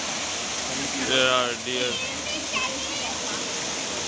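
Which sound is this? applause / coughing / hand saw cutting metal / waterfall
waterfall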